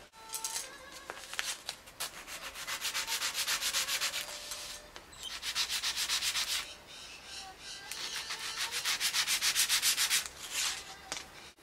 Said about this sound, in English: I just take a piece of sandpaper,